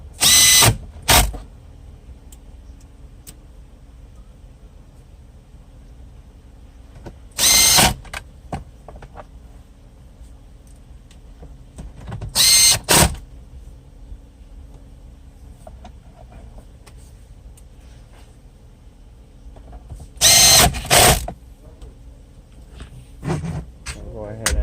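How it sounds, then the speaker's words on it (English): A power drill drives screws into a Chevy Sonic radio mount in four short, loud whirring bursts separated by quiet pauses, with a voice talking at times between them. "Tighten your screws."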